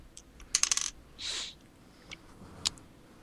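A small die for a tabletop D&D game clatters across a table in one quick rattling burst, followed by a soft slide and a few faint, isolated clicks as it settles.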